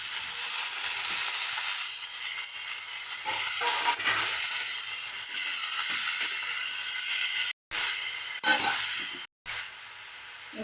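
Vegetables sizzle in a hot pan while being cooked for a Bengali posto dish, a steady close frying hiss with light stirring scrapes and two short gaps of silence near the end.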